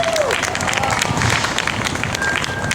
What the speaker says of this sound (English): Please give Skye Cabrera a round of applause.